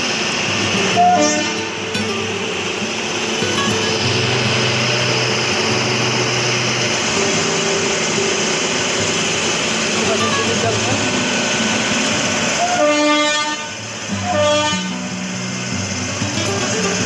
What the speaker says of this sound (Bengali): ট্রেন দেখুন ছেড়ে দিয়েছে।